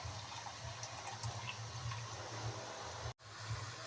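Tamarind water pours steadily into a pan for dal urundai kuzhambu, a continuous watery gush and low rumble, close and moderately loud, briefly cutting out near the end, no voices.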